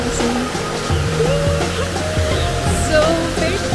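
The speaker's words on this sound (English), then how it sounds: "Now we're getting closer to one of the big waterfalls" A big waterfall at Plitvice Lakes, Croatia, gives off a constant loud rushing roar, with a melodic tune of gliding tones layered over the steady water noise throughout.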